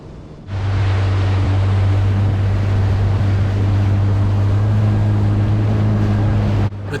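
Kawasaki Ultra 310 LX-S jet ski throttling through a strong tide near Jupiter Island, Florida, a loud steady engine drone with water rush that holds nearly constant for the whole stretch, then cuts off at the end.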